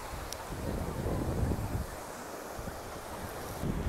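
Sea waves and a steady wind at Bakkhali beach under a blue sky form a continuous, fairly loud rushing wash with wind buffeting the microphone and no voices.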